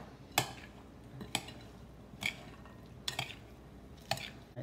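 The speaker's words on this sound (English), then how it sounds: "Always give it a good whisk," Vinaigrette being whisked in a bowl for an Asian shrimp salad, heard as five sharp, evenly spaced clinking strokes about a second apart over a quiet background.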